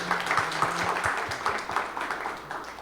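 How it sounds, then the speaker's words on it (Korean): Audience at an angel investors' association trend briefing applauding after a lecture, a moderate, even patter of many hands clapping together, steady throughout without talk. "다시 한번 큰 박수 부탁드립니다"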